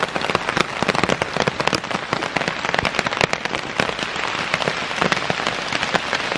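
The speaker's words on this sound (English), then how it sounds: "How loud is that rain, right?" Heavy rain drums on a tent, a loud, dense patter of close, sharp drops hitting the fabric continuously, with no talking.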